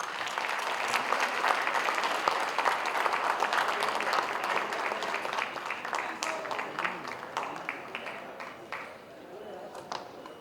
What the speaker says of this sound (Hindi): जोरदार तालियां लेडीज एंड जेंटलमैन।